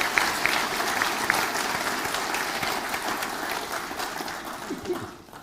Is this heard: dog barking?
no